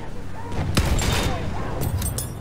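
A sniper rifle shot in the video game Battlefield 1, a loud sharp report that rings out amid steady battlefield noise, with further distant gunfire crackling afterward.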